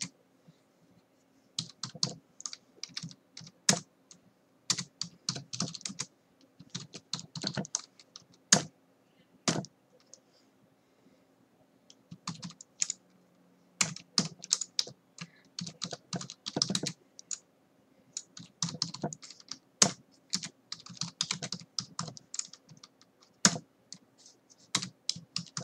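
Typing an SQL subquery on a computer keyboard, irregular bursts of close, crisp key clicks with short pauses between, quiet and steady over a near-silent background.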